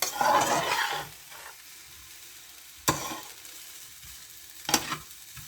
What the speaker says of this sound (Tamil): நல்லா கிளறிக்கலாம்.